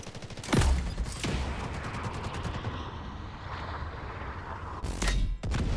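A rocket launched at an enemy in the shooter Delta Force, a sharp close blast followed by a rumbling whoosh and a second booming impact near the end, with continuous battle noise between.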